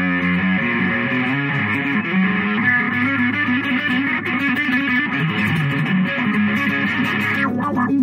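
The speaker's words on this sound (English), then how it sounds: "So now I'm going to turn the fuzz and the wah on at the same time" Loud electric guitar through a 1970s Soviet Spektre-2 fuzz wah pedal, thick fuzz distortion with the tone sweeping through the wah as sustained notes and chords ring out alone.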